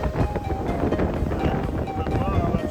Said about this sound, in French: On a environ 30 nœuds de vent